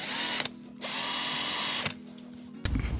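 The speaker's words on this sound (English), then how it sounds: "So now we just get the drill onto the hand drill chuck." A hand power drill whirs in two long bursts, spinning up and down close by, followed by a short clunk of the tool.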